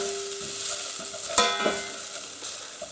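Softening vegetables and ground coriander are stirred in a pan for carrot and coriander soup, a soft sizzle under a few scraping strokes of the spoon, with a sharper clack of utensil on pan partway through.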